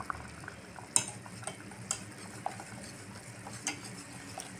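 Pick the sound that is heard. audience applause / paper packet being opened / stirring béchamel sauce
stirring béchamel sauce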